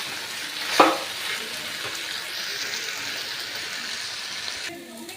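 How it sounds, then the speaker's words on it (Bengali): Water is poured into frying spices, potatoes and carrots in a pan, giving a sharp splash followed by a loud, continuous sizzle. "দেখুন আমি আন্দাজ মতন জল দিয়ে দিলাম।"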